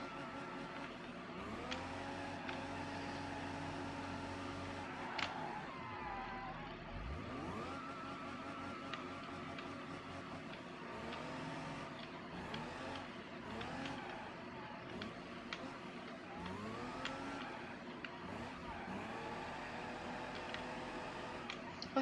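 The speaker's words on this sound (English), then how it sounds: "let me rev it real quick. You hear that? That's a supercharger." A car engine with a supercharger revs up loud and close, a sustained mechanical drone with rising and falling pitch and a steady high whine over it, running continuously.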